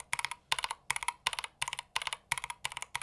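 Mechanical keyboard with Olive switches being typed on up close: short clusters of clicky keystrokes repeat in a steady rhythm, about two groups per second, soft in level, with no voices.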